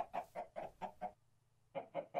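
Chickens in the video game Minecraft cluck in a quick run of five rhythmic clucks, a short pause, then three more, clear and close with no talk over them.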